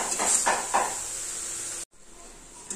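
Spice paste mixed with curd being sautéed and stirred in a pan for fish kalia, a steady close sizzle with a few scraping stirs, briefly cut off before resuming.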